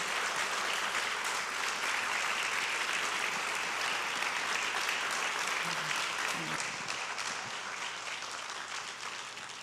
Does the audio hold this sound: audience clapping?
yes